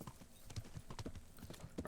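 Horse hooves clip-clopping in the video game Kingdom Come: Deliverance, a quick steady rhythm of hoof strikes, faint and brief.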